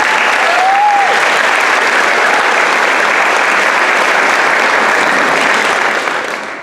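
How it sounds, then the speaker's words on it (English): An audience at a school band concert at Washburn breaks into loud, sustained applause that fills the room evenly for several seconds, with a brief whistle near the start and a slight fade at the end. "You should clap for that."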